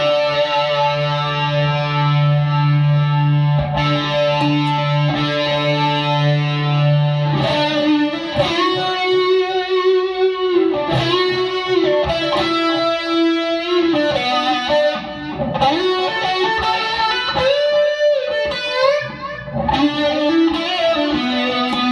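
Electric guitar through an overdrive boost pedal at a low gain setting, a held distorted note followed by gritty riffs and chords, loud and close with a saturated, crunchy tone.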